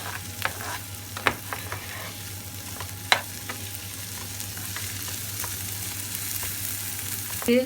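Green and long peppers with minced meat sautéing in a pan for a Turkish aubergine dish, a steady close sizzle with a few sharp clicks of a utensil against the pan and no talking.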